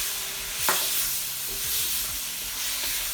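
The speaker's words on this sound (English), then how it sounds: "Give it all a really good mix" Vegetables for vegan Vegetable Manchurian being stirred with white pepper, sugar, salt and soy sauce in a hot pan, a steady close sizzle and hiss with a few scraping stirs and one louder clink near the start.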